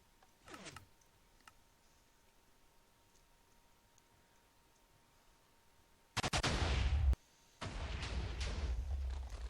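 Cannon fire blasting through walls in a video game: two loud, dense bursts in the second half, each lasting over a second with a short gap between, after a brief faint thump near the start and quiet otherwise.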